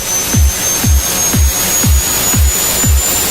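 Synthesized tuned riser built in Logic Pro X: a thin, high tone climbing slowly and steadily above a repeating low thumping beat, roughly two hits per second.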